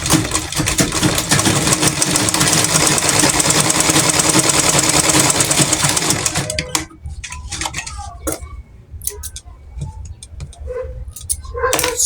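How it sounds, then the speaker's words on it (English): A sewing machine runs a straight half-inch seam on a scrunchie with a fast, steady mechanical rattle for about six seconds, then stops, leaving scattered clicks and fabric handling. "So now let's go to the sewing machine."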